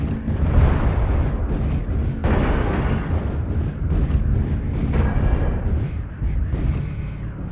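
Video game target being destroyed: a loud, dense explosion roar with crackling bursts that persists throughout, swelling again midway with several sharp impacts layered over the rumble.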